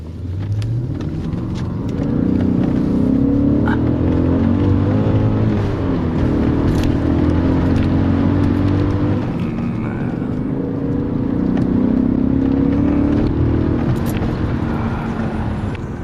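A BMW M5 engine drones steadily as the car drives along a seaside road past fishermen, swelling louder at moments and easing back, with no talking.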